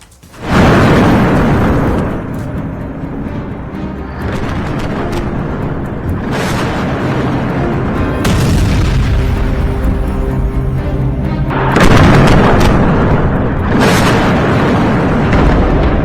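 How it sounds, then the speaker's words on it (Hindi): Heavy bomb blasts in southern Lebanon, a loud sustained rumble with several booming bursts near the start and again toward the end, no voices. "दक्षिणी लेबनान में ऐसे धमाके दिन रात हो रहे"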